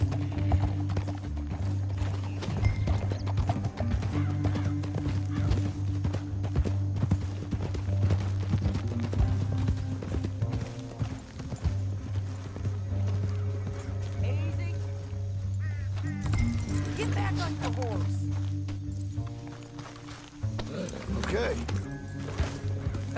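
Rhythmic hoof clip-clop of a horse moving steadily in Red Dead Redemption 2, under a constant low rumbling music bed, with some voices and effects scattered throughout.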